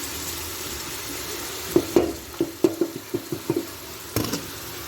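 Tomatoes and green chillies stir-fried with mutton in a pan: a low sizzle under a run of sharp spoon knocks and scrapes against the pot, close and fairly loud, no speech.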